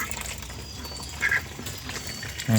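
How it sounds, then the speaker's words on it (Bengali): Two distinct Khaki Campbell duck quacks, one in the middle and a louder one at the end, over quiet outdoor background noise. "এটা ক্যাম্বেল হাঁস এই যে খাকি ক্যাম্বেল হাঁস"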